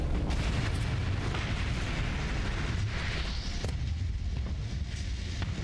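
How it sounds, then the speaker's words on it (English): Torpedoes launched and detonating in a Starsector space battle, a continuous rumble of deep booms and bursts with a few sharper cracks, loud and close. "Fire all of those torpedoes."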